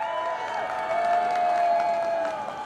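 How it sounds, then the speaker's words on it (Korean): An audience at a political speech applauds in a steady, sustained wash of clapping, moderately loud and without talk. "거기에 찬성하시는 분들은 그 판사님들을 위해서 박수 한번 부탁드립니다."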